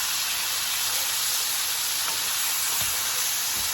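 Bacon frying in a pan on the stove, a steady, dense sizzle and hiss that holds even and close throughout, with no talking over it.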